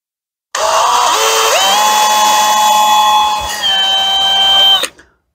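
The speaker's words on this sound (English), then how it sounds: "the first drill I've made is the drill that the screw can thread into" A power drill boring a screw hole while repairing a Bug-A-Salt gun whines steadily for about four seconds, pitch rising as it spins up and dipping briefly midway, then stopping abruptly.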